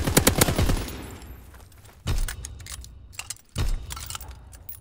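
Video game gunfire rattles off in a rapid burst of close, sharp shots at the start, followed by two more heavy thumping impacts with crackling debris, all fairly loud against a quiet background.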